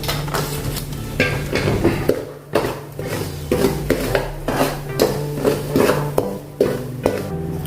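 A spoon scrapes and clinks rhythmically against a pan, stirring and roasting thin poha chivda snack mix in steady repeated strokes at close range.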